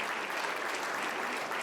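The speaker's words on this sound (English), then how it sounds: "You can give it a round of applause" An audience at a city State of the City address claps in a brief, even burst of applause, moderately quiet and without any voices on top.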